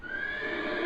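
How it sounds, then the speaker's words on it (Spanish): A horse neighs in one continuous, bright whinny lasting about a second, close and loud with no voices over it. "Así tenemos el famoso caballo haciendo sus relinches, su sonido"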